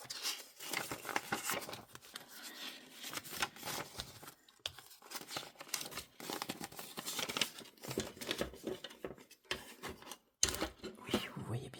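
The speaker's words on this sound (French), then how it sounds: "Donc comme là c'est la fin du mois, on vide toutes les enveloppes." Paper cash budget envelopes are emptied by hand at the end of the month, giving close, faint, intermittent crinkling, rustling and tearing of paper in uneven bursts with brief pauses.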